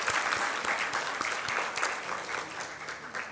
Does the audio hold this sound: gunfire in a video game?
no